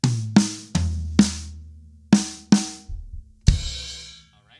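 A drum fill is played on the rack tom, snare and floor tom: a run of about eight strokes with short ringing decays, ending on a broader, washier final hit. No one speaks.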